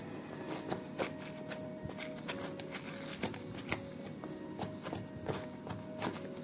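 A pop-it toy's silicone bubbles are pressed one after another, giving a quick run of small, light clicks and pops close by, fairly quiet and uneven in rhythm.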